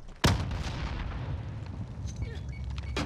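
Sniper fire in the video game Modern Warfare: one sharp, booming shot near the start, a second crack at the end, and a quieter rumbling battle sound between them.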